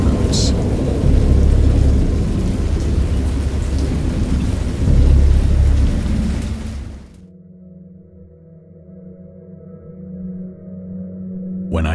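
A video game thunderstorm with heavy rain: a dense, loud roar of rain and rumbling thunder that cuts off abruptly, leaving a low, quiet hum.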